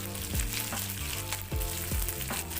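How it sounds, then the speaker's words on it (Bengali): Small shrimp and chopped garlic fry in oil with a continuous close sizzle, interrupted by several rhythmic scraping stirs of a utensil in the pan, and nobody speaks. "চিংড়ি মাছ এবং রসুনটা সামান্য পরিমাণ একটু ভেজে নিব।"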